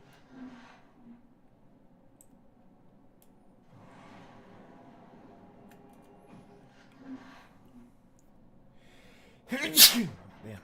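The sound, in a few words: sneeze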